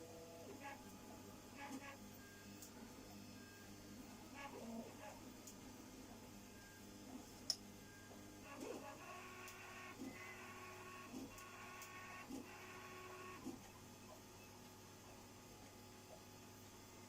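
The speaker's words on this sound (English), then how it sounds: "I'm 3D printing at the moment the end boxes to the battery box, the end covers." A 3D printer prints end covers for a battery box, giving a quiet, steady run of stepper-motor whirs and buzzing tones in shifting patterns over a low hum, with brief clicks and a sharp tick.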